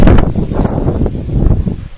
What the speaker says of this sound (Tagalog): Ramdam din ang malakas na bugso ng hangin at ulan sa sentro ng bayan.